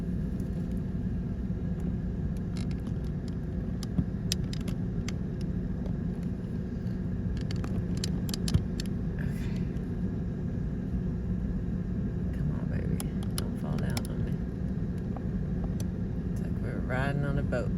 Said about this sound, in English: I do have the car running, so I could just move the whole damn car